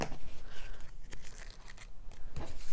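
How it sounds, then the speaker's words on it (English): Scissors snip through slippery decorative cording on a handmade Christmas treat bag, a few short crisp cuts and crinkles close by, quiet with no talking. "And just cut that."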